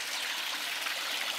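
Water being let in and flowing, a continuous hissing, splashing rush like a small stream, steady and fairly close with no voices over it.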